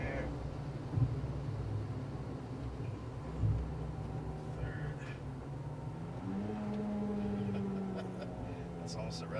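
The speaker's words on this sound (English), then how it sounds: "Listen to the engine." A 2014 Ford Fiesta ST engine hums steadily, then rises in pitch as it accelerates near redline, with a couple of brief thumps along the way.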